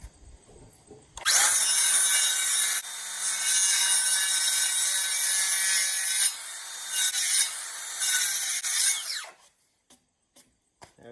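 A timber truss is worked with a loud, rasping, grinding cut that starts abruptly, runs for about eight seconds with a few short dips, then stops. A few quiet knocks follow in near silence.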